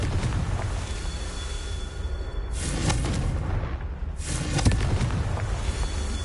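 Two heavy booming blasts from the Confringo spell in a wizard video game burst out a couple of seconds apart over a steady low rumble, with no talk.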